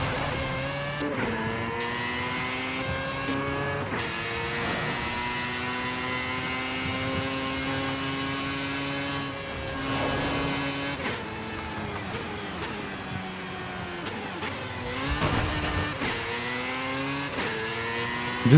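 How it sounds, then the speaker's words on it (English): A car engine in the racing game Forza Horizon 5 drones steadily at high revs, its tone sliding up and down through gear changes with brief dips, loud and continuous throughout with no talk. "This car sounds fucking good."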